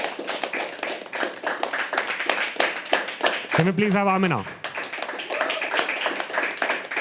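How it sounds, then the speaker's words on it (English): An open mic poetry audience claps steadily as the next performer is called up, quick overlapping hand claps close by, while a host speaks over them and a whoop rises in the middle. "Okay, start clapping."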